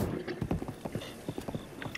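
Hooves of the horse Max clip-clop in a quick, steady rhythm in a video game, close and distinct over a low ambient rumble.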